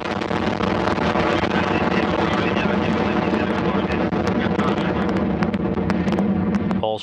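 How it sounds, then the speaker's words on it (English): A Soyuz-U rocket lifting off with the Progress 60 cargo resupply vehicle, a loud, continuous broadband roar with crackling bursts that holds steady for the whole stretch. "Maximum thrust and liftoff"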